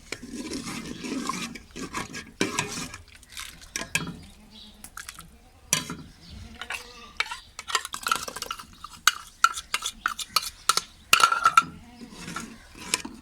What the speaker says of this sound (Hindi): चम्मच चलाते रहें इसका।